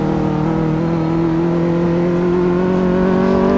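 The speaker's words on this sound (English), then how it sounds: "It sounds like a high-speed race car right now." A car engine in the game Car Mechanic Simulator 2014 revs hard and close like a race car, a loud, steady high drone whose pitch creeps slightly upward throughout.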